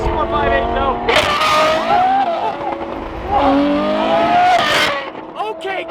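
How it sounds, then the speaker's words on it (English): Ferrari 458 engine revs loudly in a couple of rising bursts, a high, sharp wail with tire noise, with people talking excitedly nearby. "I love the sound of this 458"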